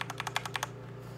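Rapid keystrokes on a SteelSeries Apex 7 TKL mechanical keyboard with a metal body: about eight crisp, close clicks in quick succession, then stillness.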